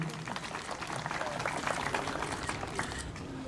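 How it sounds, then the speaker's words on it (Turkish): Applause from an audience at an opening ceremony of a veterans' association branch in Şile, steady dense clapping with crowd noise mixed in, moderately quiet and continuous throughout. "Tekrar bir alkış alalım."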